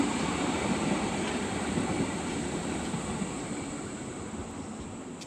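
A number 9 tram draws closer with a broad, steady rumble of wheels on rail, loud and close, easing off slightly toward the end with no voices.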